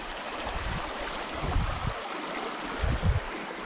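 A rocky stream in Menifee County flows steadily with a broad, continuous rush of water, while occasional low thumps and rumbles rise beneath it.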